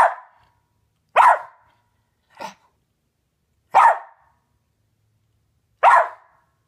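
A West Highland Terrier barks five times in short, separate bursts spread over several seconds, fairly close, with quiet gaps between, the third bark softer, at a fly.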